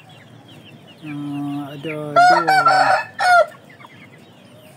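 Indio Gigante chickens cluck and call close by, a few drawn-out tonal clucks building into a loud rough crow-like burst, then a final cry, over quiet outdoor background; a short word is spoken.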